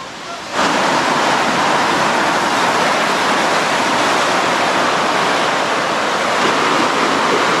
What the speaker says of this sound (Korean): 코끼리 폭포 앞에 있는 카페에 왔더니 바로 폭포가 보이네요.